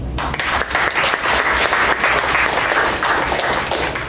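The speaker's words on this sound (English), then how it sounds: "a round of applause for everyone" Applause from a meeting audience at the close of the session, a loud, continuous patter of many hands clapping close by for several seconds.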